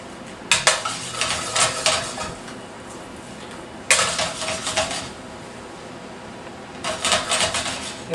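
Chopped bananas being stirred in a pan with melted butter for bananas Foster, three bursts of a utensil scraping and clinking against the metal pan, close and fairly loud, separated by quieter frying.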